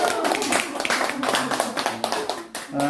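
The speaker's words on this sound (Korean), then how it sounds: "박수 한번" Small group clapping in a lecture hall during a poetry talk, a quick burst of hand claps lasting a few seconds with a voice speaking over it.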